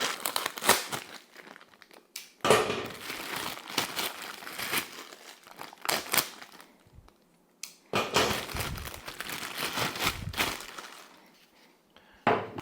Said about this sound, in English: Carefully unwrap these so they look all nice and pretty for the camera.